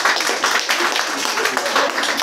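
Crowd at a live comedy show in Brno clapping on request, a loud, dense patter of many hands throughout with voices mixed in.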